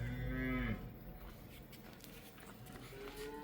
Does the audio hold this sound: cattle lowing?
yes